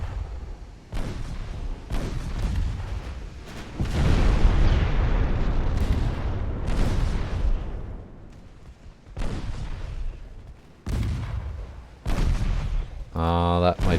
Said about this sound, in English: They're gonna fire AP out of that main gun.